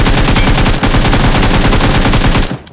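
Rapid automatic gunfire in the shooter game Free Fire, a loud, close, unbroken stream of shots for over two seconds that then cuts off.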